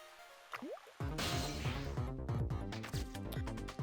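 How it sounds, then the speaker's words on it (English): Water sprays and splashes in the Ghost Trick video game, a sudden wet gush after a few soft drips, continuing as a steady bubbling, gurgling stream. "we can make that spray the water"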